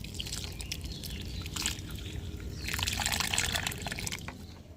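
Water poured generously onto soil in a flower pot holding a flowering tar plant just mixed with fertilizer, a steady close splashing trickle that swells louder toward the end, with no talk.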